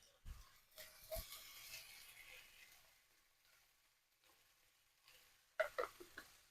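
A pot of smothered potatoes with a bay leaf sizzles steadily at close range, with soft stirring and a few sharp clinks and taps near the end.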